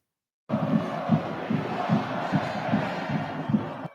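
A huge football crowd at Penn State's Beaver Stadium, in a white-out game against Illinois, chants and roars in a pulsing rhythm, with steady beats like a unified cheer rising after a brief silence.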